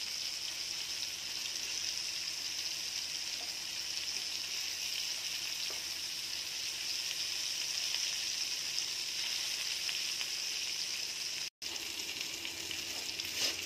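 Prawns fry on a hot tawa in a close, steady sizzle that holds at an even level throughout, with one brief break near the end and no talk.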